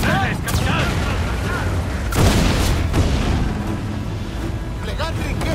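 Several heavy booms of ship cannon fire in the video game Assassin's Creed IV Black Flag go off, a big blast near the middle, with shouting voices and battle noise mixed in throughout.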